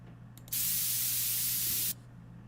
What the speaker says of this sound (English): Can I find something on Splice? Of just, like, literally white noise.